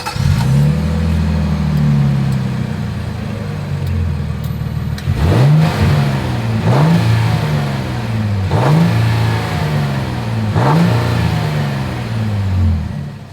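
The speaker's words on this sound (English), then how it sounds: "As always, here is that exhaust clip." Exhaust of a 2025 Nissan Armada revving, loud and close: a steady idle followed by four or five sharp throttle blips that rise and fall in quick succession.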